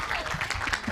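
A brief burst of audience clapping at a youth day event, moderately loud and mixed with crowd noise.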